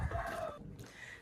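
An agitated hen clucks close by in a short, harsh burst of bird calls with no talking.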